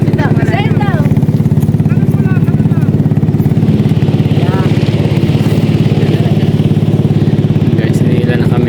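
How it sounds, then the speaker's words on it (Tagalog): Small motorboat engine runs steadily and loudly throughout while towing another boat, a continuous close putter from start to finish, with people talking over it. "nag-start na yung bangkang maliit"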